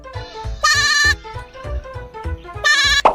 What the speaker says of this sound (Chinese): 一只羊，咩咩咩，